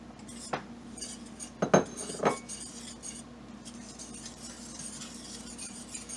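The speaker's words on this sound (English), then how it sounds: "I'm going to stir this until it's golden brown." Flour stirred into a pan to make a roux gives a few scraping, clinking strokes of a utensil against metal early on, then a quiet steady background hiss with faint movement.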